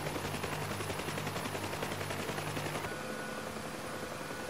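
UH-1 Huey helicopter in the DCS flight simulator, a loud, steady rotor and turbine roar with rapid rhythmic blade chop, close and continuous, thinning slightly partway through.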